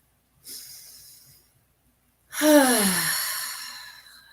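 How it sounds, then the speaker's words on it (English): During a guided meditation, a short soft breath is followed by a longer, louder deep breath with an audible exhaling sigh, both close and isolated in silence. "So let's take a deep breath."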